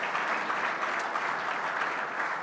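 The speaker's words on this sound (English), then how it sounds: "that does deserve, a round of applause" An audience at the 2021 Rolex LPGA Awards breaks into steady, even applause from many hands, filling the room without pause.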